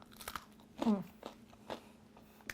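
A few crisp crunchy bites close up of overcooked air-fried frozen snacks, with one loud crunch standing out among quieter chewing sounds.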